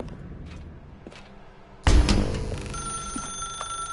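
An old-style telephone bell rings in The Stanley Parable, a sudden loud jangling burst with sustained metallic ringing tones that continue steadily, following a quieter stretch of low room ambience.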